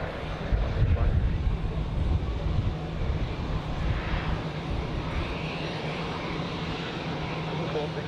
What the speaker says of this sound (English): the EasyJet here is coming in from Palma de Mallorca